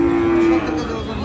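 A dry cow at a cattle market in Aftabganj gives a loud, close moo lasting about half a second, a single steady low call that breaks off amid continuous crowd murmur.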